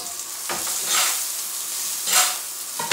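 Onion frying in a pan on a stovetop during pike-perch cooking, with a steady close sizzle and a few louder bursts of stirring and crackling, and no talk over it.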